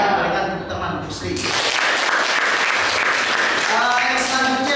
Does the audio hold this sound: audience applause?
yes